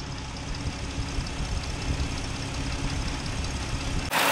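A car engine idles steadily during fuel injector testing, a close, even rumble with a faint ticking pulse, ending in a sudden noisy burst.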